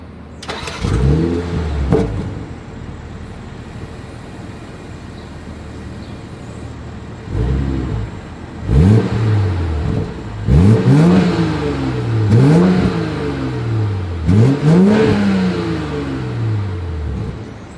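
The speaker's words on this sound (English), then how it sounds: "As always, here is that exhaust clip." A 2022 BMW 740i engine starts up close, then revs repeatedly in sharp bursts, each rising and falling away, with a deep exhaust note between blips.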